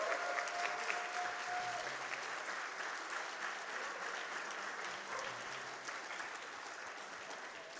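A crowd applauds steadily after a Metroid Zero Mission speedrun race, a dense wash of clapping that slowly tapers off, heard from a bit of a distance.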